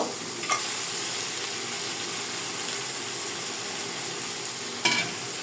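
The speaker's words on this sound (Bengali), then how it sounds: "দিয়ে আমি মশলাটাকে ভালো করে কষে নেব" Spice paste of ground spices and red chili powder sautéing in a pan, a continuous close sizzle with stirring scrapes and two sharp utensil knocks.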